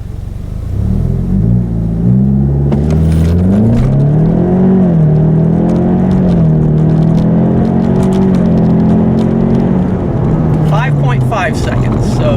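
Car fitted with a Flowmaster exhaust launches from a standstill to 60 mph in drag strip mode with traction control off, its loud engine note climbing through rising revs and gear changes for about ten seconds before easing off.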